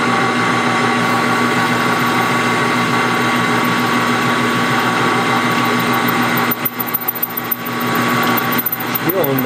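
A big drill runs steadily, a loud close mechanical whine with a constant pitch that cuts out briefly and restarts near the end, with no talking over it.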